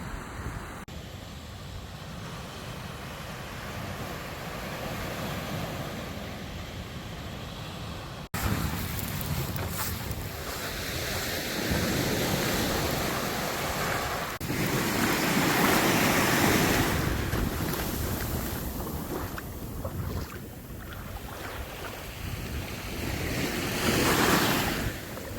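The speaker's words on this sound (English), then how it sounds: "Yo, these waves are strong." Strong ocean waves surge and break at a Barcelona beach, a loud continuous roar of surf with wind buffeting the microphone, swelling in repeated crashes close by.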